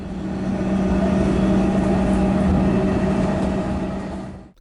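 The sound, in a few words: Sunbury-bound train running through Metro Tunnel Western Portal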